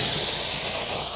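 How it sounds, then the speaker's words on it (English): A portable carpet cleaner pulls water out of a stained couch with a loud, steady suction hiss, no spray running, continuous and close for the whole moment. "And now we're extracting, so I'm not spraying any"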